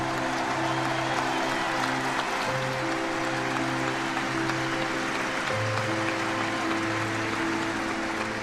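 Audience applause for Johnny Hallyday at his funeral, a continuous wash of clapping from a large crowd, heard at a distance and fairly faint, with steady low tones underneath.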